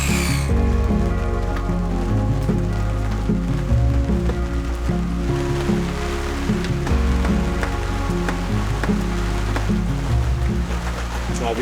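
Steady storm rain patters on a surface close by at a small wooden cabin build, a dense continuous hiss with scattered drips, mixed with a low rhythmic hum in the background.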